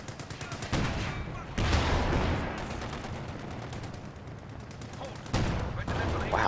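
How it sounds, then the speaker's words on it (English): In a Company of Heroes 2 match, an anti-tank gun fires amid battle noise, with loud booming reports at intervals over continuous rumbling gunfire and explosions. "Wow, Lipton's AT gun."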